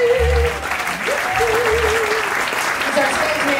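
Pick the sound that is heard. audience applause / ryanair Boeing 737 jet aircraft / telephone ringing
audience applause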